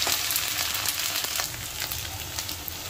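Onion fries with ginger and garlic paste in a pan as a hissing sizzle holds steady throughout, with faint stirring scrapes mixed in. The sizzle is close and moderately loud, and no voices are heard.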